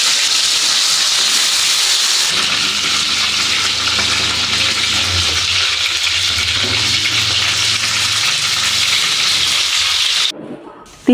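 Onion and garlic sizzle steadily in hot oil, a loud, even crackling hiss that goes on for about ten seconds before cutting off abruptly.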